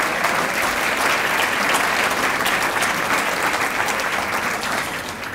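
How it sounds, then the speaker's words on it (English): Applause for a high school jazz band at a Teacher of the Year dinner in Sioux Falls, a dense, sustained round of clapping from a large crowd that begins to thin toward the end. "Let's give one more round of applause to the Lincoln High Jazz Band and instructor Dan Carlson."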